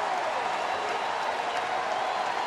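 Giants fans applauding in a ballpark crowd during a San Francisco at San Diego baseball game, steady broad clapping and crowd noise with no break.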